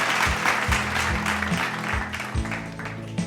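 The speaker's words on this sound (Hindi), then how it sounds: "एक बार जोरदार तालियों के साथ हमारे इन नन्हे कलाकारों का हौसला बढ़ाएं" An audience claps for young artists after a Diwali art competition, a dense continuous round of applause from a crowd, with a faint low hum underneath.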